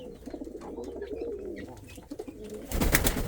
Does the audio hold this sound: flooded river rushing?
no